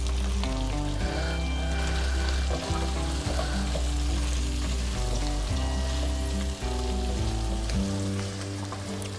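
Boiled chicken and mixed vegetables frying and being stirred in a pan for Chinese masala fried rice, a loud, continuous sizzle with steady stirring scrapes and no talk.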